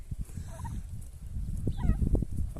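Turkeys on a small Portuguese farm give a few gobbling calls over rustling and low background noise, nearby and moderately loud.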